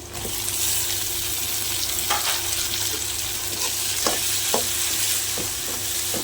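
Tomatoes sautéing with onions in a pan for a goat intestine curry, a constant loud sizzle punctuated by a series of sharp spoon scrapes and taps against the pan, close with no talk.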